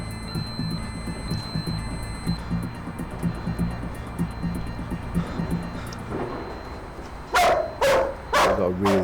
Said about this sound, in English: He's my first police dog.